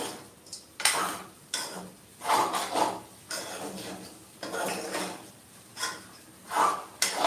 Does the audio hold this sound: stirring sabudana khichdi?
yes